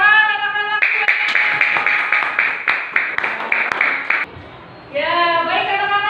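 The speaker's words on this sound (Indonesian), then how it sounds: "Tepuk tangan anak-anak" Children in a classroom clap together in a quick, steady rhythm for a few seconds, loud and close, with singing-like voices before and after the clapping.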